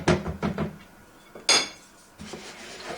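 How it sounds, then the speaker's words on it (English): A spoon scrapes and clinks against a bowl while stirring kalu dodol mixture of jaggery and coconut milk made in a microwave, giving a few close, sharp clatters separated by short quiet gaps, with no talking. "you have to stir all the time"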